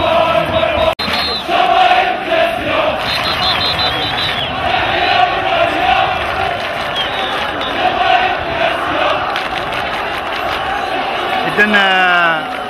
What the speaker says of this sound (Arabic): هتافات وتحية للجماهير المكناسية